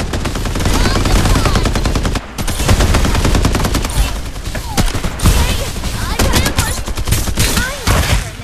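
Gunfire in the Farlight 84 video game, with rapid automatic bursts and louder single sniper cracks in dense volleys, and a player's voice heard over the shooting.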